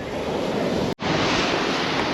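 Sea waves wash in steadily at Anjuna beach in Goa, a broad continuous roar of surf and wind with a brief dropout midway.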